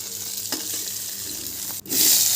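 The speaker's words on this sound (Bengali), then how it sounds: "লবণ হলুদ দিয়ে এখানে বেগুনগুলোকে আমি ভেজে নিচ্ছি" Eggplant pieces fry in hot oil with salt and turmeric, giving a steady close sizzle; a short stirring clatter is followed by a louder burst of hissing.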